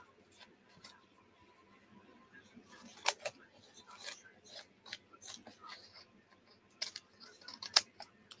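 Scissors trimming paper or craft material up close, with a series of short crisp snips and rasping cuts scattered irregularly, some sharper and louder, over a quiet background.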